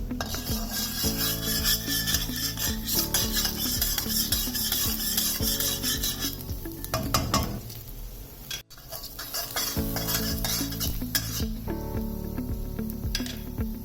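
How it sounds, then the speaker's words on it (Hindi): Chopped garlic sizzles in hot oil in a wok over a high flame while a utensil scrapes and stirs it repeatedly in a dense rhythmic rasp. The scraping continues almost without a break. "चॉप किया हुआ गार्लिक 1 टेबलस्पून ऐड कर देंगे, और इसको थोड़ा सा सौटे कर लेंगे"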